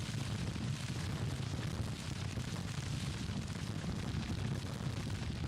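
Distant artillery rumbling in the Civil War strategy game Grand Tactician, a continuous low booming roar that fills the whole stretch at steady loudness with no talk over it.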